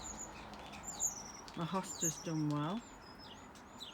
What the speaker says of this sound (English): If you can hear a noise in the background, that's the starlings.